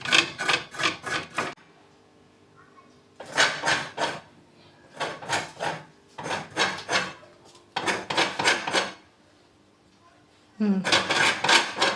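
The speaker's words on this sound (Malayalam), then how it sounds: "എന്റെ തേങ്ങ ചേരണ്ടി തുടങ്ങി." Coconut being grated on a hand coconut scraper in a home kitchen: rapid rhythmic rasping strokes in bursts of several scrapes, separated by short pauses, close and crisp.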